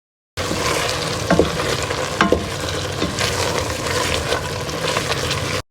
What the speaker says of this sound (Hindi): मैं इसे चम्मच चला के तो देखती रहूंगी